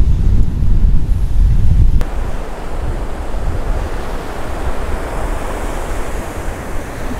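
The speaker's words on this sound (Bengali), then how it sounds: "জোয়ার শুরু হয়ে গেছে" Ocean surf washing in as the tide rises on a windy coast, a steady loud roar of breaking waves with wind buffeting the microphone, strongest in the first two seconds, no voices.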